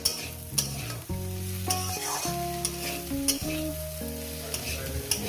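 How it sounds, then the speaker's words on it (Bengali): Mourala fish fries and sizzles in a pan with potatoes and drumstick flowers. The hiss is steady, broken by a few stirring scrapes, under background music, with no talking. "আর এক মিনিট ভাজবো বন্ধুরা"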